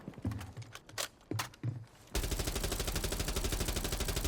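Automatic gun in Rainbow Six Siege: a few separate shots first, then a long continuous burst of rapid fire, close and loud, without speech.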